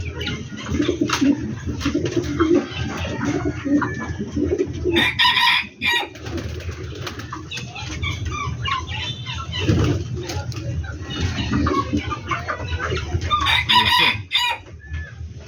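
Chickens cluck steadily with a rooster crowing loudly at times, close by, and a person talks intermittently among the birds.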